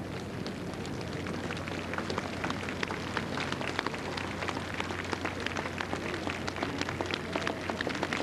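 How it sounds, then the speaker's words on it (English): Crowd applause at an open-air Normandy D-Day commemoration ceremony, dense and continuous clapping from packed stands that rolls on evenly throughout, heard from a distance without clear voices. "the applause and the cheering rolls around the perimeter of this open square and through the crowded stands."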